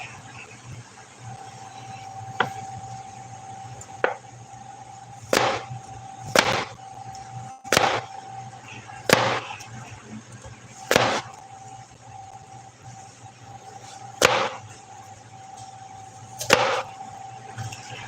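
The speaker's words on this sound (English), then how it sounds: "We're still just chopping and plating them." Sharp, separate knife chops on a board as apples are cut and plated, about a dozen irregular strikes over a steady background hum.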